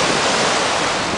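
Ocean surf rushes in a steady, loud, broadband roar at a beach in the evening, close to the microphone, with no voices.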